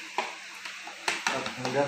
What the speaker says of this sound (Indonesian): Dikasih terigu, dikasih air, terigu itu diaduk, dikasih gula sedikit.